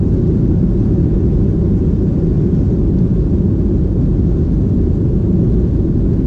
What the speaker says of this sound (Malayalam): ഏതാനും നിമിഷങ്ങളാകും ഫ്ലൈറ്റ് മുകളിലോട്ട് ഉയരുന്നതാണ്.